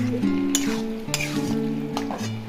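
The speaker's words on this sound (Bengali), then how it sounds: "এবার নেড়ে নিচ্ছি।" Potatoes and onions frying in a pan, stirred with a spatula: steady close sizzling with a few sharp scraping strokes against the pan.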